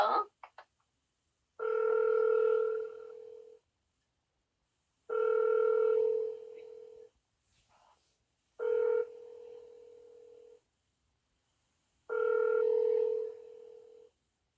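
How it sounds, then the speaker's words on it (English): A cell phone number dialed with a quick burst of tones, then a ringback tone repeating four times with silent gaps between rings. "She looks at her cell phone and then calls a number on it and waits."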